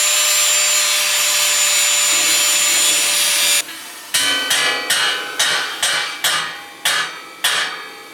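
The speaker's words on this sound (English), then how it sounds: "So now I'm going to cut that off" A metal handrail sleeve on an Alaska cabin porch rail is cut with a power tool, a loud steady whine for several seconds that stops abruptly, followed by a quick series of about seven sharp metallic knocks.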